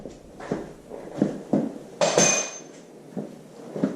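A breaker bar works loose the cap screws on a Farmall Super MTA tractor during engine removal, giving a series of close metallic clanks and knocks. Brief ringing tones sound between them.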